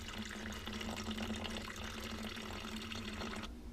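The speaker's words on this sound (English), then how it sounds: "I'm just going to start pouring in these Gatorades and see where I get" Gatorade poured from a bottle into another bottle, a faint, continuous trickling and gurgling of liquid that runs steadily before stopping, with no talk.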